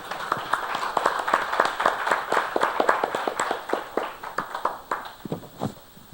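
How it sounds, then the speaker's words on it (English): Small group of conference participants applauding, a modest, uneven patter of individual claps close by, fairly light and tapering off over a few seconds. "I invite all the participants for a big round of applause."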